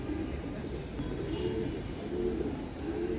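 Pigeons in a pigeon loft coo in low, continuous overlapping murmurs, close and fairly faint, with a steady background hum throughout.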